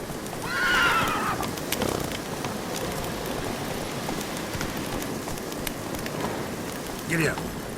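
A horse in The Witcher 3 gives a loud whinny near the start, with hoof clops and light rain in the background and a shorter snort or neigh near the end.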